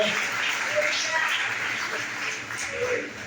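Church congregation applauding in a sermon setting, a steady wash of clapping that holds at an even level throughout, with a voice faintly present underneath.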